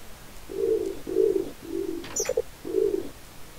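Pigeon cooing in Minecraft: four steady, evenly spaced low coos with a brief flutter of clicks between them, clear and close with no talking.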